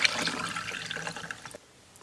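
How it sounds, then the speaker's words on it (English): A drink poured over a cup of ice, a gushing, splashing liquid stream up close that runs steadily, then tapers and stops abruptly near the end, leaving near silence. "So I've got a cup of ice and I'm just going to pour it over top of it."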